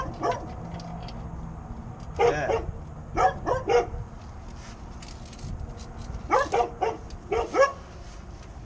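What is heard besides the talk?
dog barking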